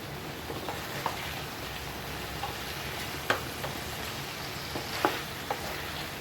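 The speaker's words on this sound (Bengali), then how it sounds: "এবার আমি এটাকে আর নেড়ে চেড়ে দেবো।" Katla fish masala sizzles and fries in a pan while a utensil stirs it, giving a steady frying hiss with occasional soft scrapes and clicks, close and fairly quiet, with no talking.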